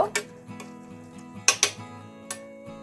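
Salt being stirred into cut flat beans sitting in a bowl of water, with a few sharp clinks of a spoon against the bowl and soft scraping between them, close by and fairly quiet.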